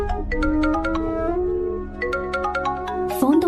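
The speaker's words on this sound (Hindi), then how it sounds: "फोन तो उठा ले।" A mobile phone ringtone plays a repeating electronic melody of bright, evenly spaced tones, fairly loud and continuous, with a brief burst of other noise near the end.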